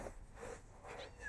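A cat gives a few faint, short meows spaced about half a second apart, soft and somewhat distant over a low steady background hum.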